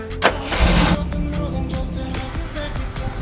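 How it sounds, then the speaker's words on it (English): A Jeep engine starts up nearby with a short cranking burst, then settles into a steady mid-pitched idle heard up close. "And then I'm gonna move my Jeep back a little bit."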